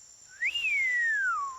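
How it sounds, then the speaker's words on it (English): A cartoon character whistles one clear, sliding note that rises quickly, then glides slowly downward over about a second before stopping. "I've got a bad whistling habit"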